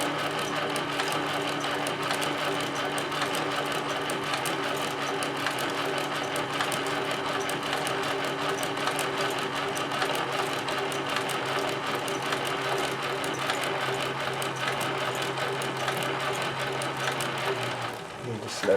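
A Singer 72W19 hemstitching sewing machine runs continuously with a steady, fast mechanical whir and rapid stitching clatter, holding an even pace before winding down abruptly near the end.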